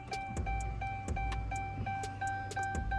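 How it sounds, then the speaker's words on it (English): A faint, steady electric hum from a Hellcat fuel pump priming in a 5.7 Charger running E85, with a high tonal whine and regular clicking ticks recurring throughout. "Like, just listen to the fuel pump, just listen close."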